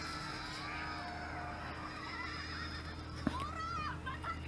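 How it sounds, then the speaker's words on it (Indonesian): A horse neighs in a scene from the anime Slime 300 season 2, episode 4: a high whinny rises briefly over steady background music and ambience, moderately loud, with no voices heard. "Kok kayak ada suara kuda tadi ya?"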